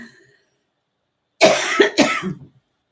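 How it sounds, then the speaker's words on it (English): A single harsh cough from someone recovering from pneumonia, in two quick bursts, close and loud, after a moment of near silence. "And I might cough, and this might happen."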